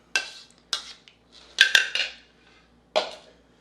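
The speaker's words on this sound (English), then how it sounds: "just whisk it around" A whisk stirs banana pudding in a bowl and knocks against the sides in a handful of separate, quiet metallic clinks with short pauses between them. No one speaks.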